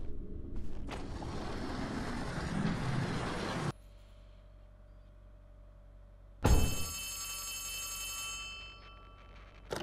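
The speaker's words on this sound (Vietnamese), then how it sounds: "Điện thoại." In Poppy Playtime Chapter 3, a loud burst of noise cuts off, then an old-style telephone bell starts ringing with a bright metallic jangle. It carries on steadily for a few seconds before fading.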